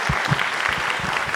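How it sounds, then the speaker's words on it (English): An audience at a theatre playhouse gives a round of applause for an event sponsor, a brief, steady burst of many hands clapping with a few voices mixed in. "let's give her a round of applause"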